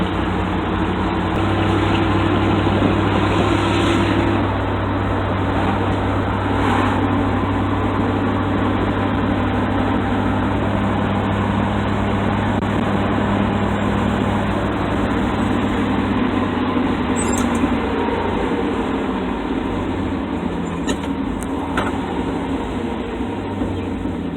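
A 1976 Dodge D100 pickup's 318 V8 with a Quadrajet four-barrel carburetor runs at a steady idle, a continuous low rumble close by with no talking over it.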